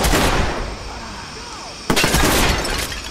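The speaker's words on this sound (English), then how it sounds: "Shots fired!" Gunfire in the Watch Dogs video game during a police shootout, loud sharp shots in two bursts with a break between them, under shouted voices.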